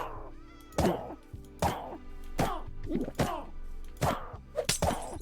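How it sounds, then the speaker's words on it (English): A cat in modded Minecraft's swamp, with the Biome Makeover mod, meows about six times in short, rising-and-falling cries at an uneven pace, close and clear over soft game sounds. "Oh, that's a cat."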